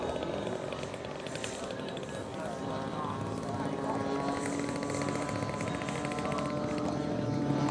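A radio-controlled L4 Grasshopper model plane at a large-scale model flying event, its engine idling steadily on landing approach, a continuous buzzing drone that holds level throughout.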